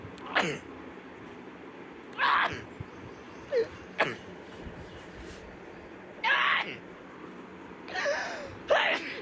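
A girl sneezing rapidly, a series of sharp, close sneezes arriving in quick irregular bursts, some doubled, with quiet breathing between them.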